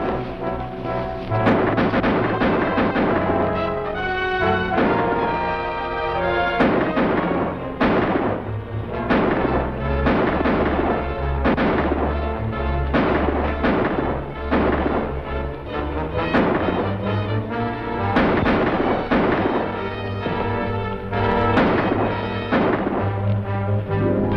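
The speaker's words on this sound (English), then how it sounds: "Stay here and keep shooting." Heavy gunfire in a colorized western film shootout, many loud booming shots and volleys repeating through the whole stretch with echoing reverb and no clear talk.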